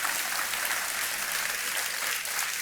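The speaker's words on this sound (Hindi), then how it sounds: "तालियां बजती रहें इनके लिए" A studio audience on a quiz show claps for a contestant, a thick, continuous wash of applause holding steady from start to finish with no talking.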